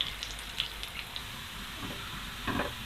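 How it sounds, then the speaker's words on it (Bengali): Chopped onions fry until brown for a goose meat curry, a soft continuous sizzle with faint crackles and a slightly louder burst of spattering near the end. "পেঁয়াজগুলোকে আমরা ব্রাউন করে ভেজে নিব"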